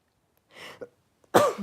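Several rough, raspy coughs close by, a soft breathy one first, then a sharp, louder hack.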